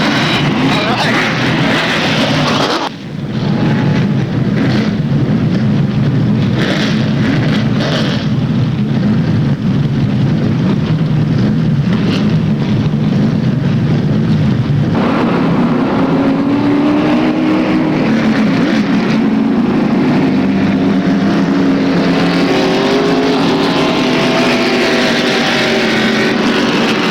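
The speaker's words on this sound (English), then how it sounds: "Drivers, start your engines." Several street stock race car engines fire up and rumble together at a speedway, a loud steady roar with rising revs, under a crowd and announcer talk.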